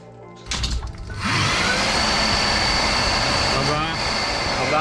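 An unloaded electric bike hub motor driven by an ASI controller spins up quickly and holds a loud, steady high whine with a rising and falling tonal edge, after brief talking at the start.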